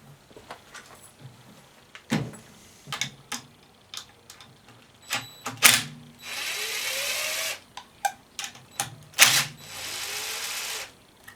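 A small quarter-inch ratchet driver works on the points cover of a 1968 rototiller, giving scattered sharp clicks and taps with two longer bursts of rapid ratcheting, close and alone.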